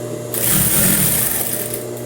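A sewing machine stitches fabric for a blouse, a loud, steady whirring run that starts abruptly and continues close up.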